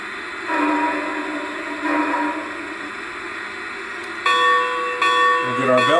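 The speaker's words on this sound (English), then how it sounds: "Get our bell going and give a couple of toots of the horn, the whistle." A G-scale model train's steady ringing bell plays with faint background hum, then a couple of short horn toots sound near the end.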